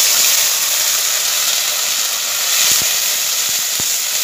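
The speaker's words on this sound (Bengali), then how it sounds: "তেল দিলাম, তেল গরম হয়ে গেছে। আবার মশলাটা ঢেলে দিচ্ছি" Ground spice paste for a catla fish curry sizzles in hot oil, a steady broad hiss filling the clip with a few faint low knocks near the end and no voices.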